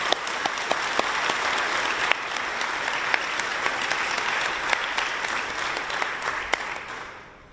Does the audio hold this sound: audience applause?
yes